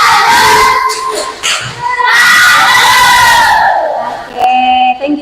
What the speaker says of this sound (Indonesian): Tepuk tangan untuk Rosidas Group.